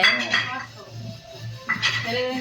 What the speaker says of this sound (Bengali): তার জন্য কাঁসার থালা বাসন মেজে ধুয়ে রাখছে।